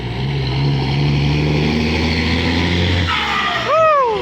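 A Kobelco SK200-10 excavator's diesel engine drones in a steady, loud idle as the machine pulls away, and a voice comes in at the very end.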